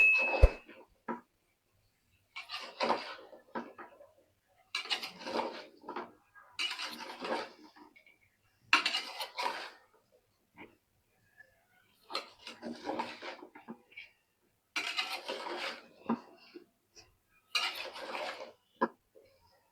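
A vegetarian pointed gourd and potato curry stirred in a cooking pot, with repeated bursts of metal scraping and clinking in an uneven rhythm, separated by short silences and no talking.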